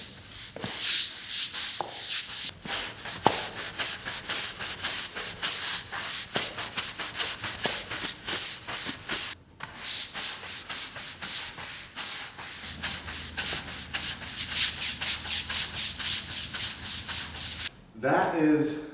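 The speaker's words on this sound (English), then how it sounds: "We'll just give them a good scrub and try and get everything up as much as we can." Rapid, steady back-and-forth scrubbing of a concrete garage floor with degreaser, loud and close, running almost continuously with one brief pause.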